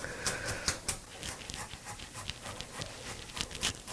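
A dog pants steadily in a home kitchen while chicken stew with beans is being prepared, quick rhythmic breaths close by with faint clicks and movement around it.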